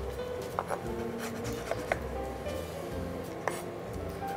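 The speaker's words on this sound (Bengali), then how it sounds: "পেস্তা বাদামগুলোকে কুচি করে দিচ্ছি" Pistachio nuts are chopped with a knife on a board in a kitchen, giving soft scraping and rubbing with a few light clicks of blade against board, fairly quiet and close.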